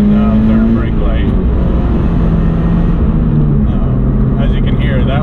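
A car fitted with an Ace Laguna exhaust revs loud and close at full throttle, a steady droning roar with a rising pitch near the end and a voice speaking over it.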